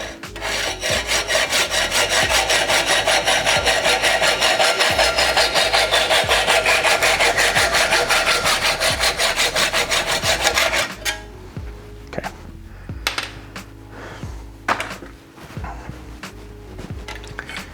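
Rapid, steady back-and-forth hand sawing through a OneUp carbon e-bike handlebar, loud and close for about ten seconds, then stops and leaves scattered clicks and handling noises.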